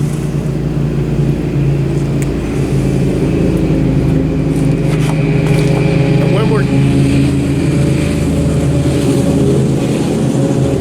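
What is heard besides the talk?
traffic passing by on the road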